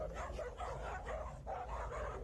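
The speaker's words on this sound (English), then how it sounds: "Now you see the dog on the bottom is kind of barking at him." A dog pinned on the bottom during a dominance scuffle between dogs lets out faint, strained yips and barks in repeated bursts over a steady low rumble of background noise.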